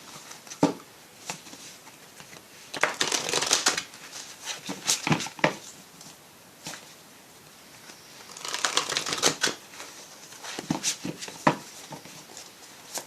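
Tarot cards being shuffled and tapped on a table, a soft close rhythm of flicking, riffling bursts and light taps coming in two longer clusters with quieter pauses between, no talking.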